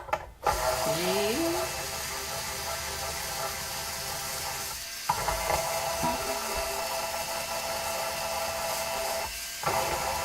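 A string winder cranking off guitar strings during a repair of a Martin HD-28, with short ratcheting, whirring turns broken by brief pauses, close up.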